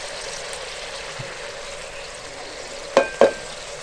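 Tomatoes and masala frying in a pot for dhaba-style daal chana give a steady soft sizzle, broken near the end by two quick scraping knocks of a spoon against the pot.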